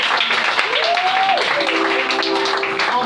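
A church congregation at a Friday service in Koumassi claps and applauds steadily and loudly, with a voice calling out over the applause.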